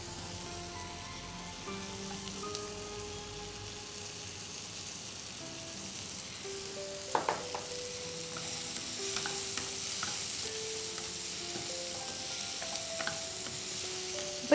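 Capsicum and ginger sizzle in a hot pan for paneer jalfrezi, a steady frying hiss with occasional scraping clinks of a spoon stirring, close and continuous with no talking.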